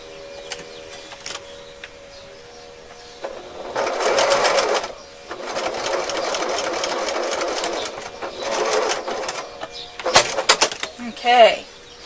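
A sewing machine stitches quilt block fabric in several bursts of steady, rapid mechanical whirring, some short and some longer, with quiet pauses between them and a voice speaking nearby.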